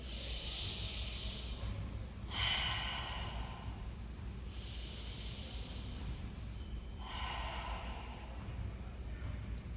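Slow, deep breaths during an EFT tapping exercise rise and fall as soft, airy hisses about every two to three seconds, close and gentle, over a steady low background hum.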